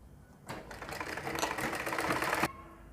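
A sewing machine stitches a folded 1.5-inch fabric strip onto the sleeve of a ladies suit. It gives one close, steady run of rapid clattering for about two seconds, set in a quiet room.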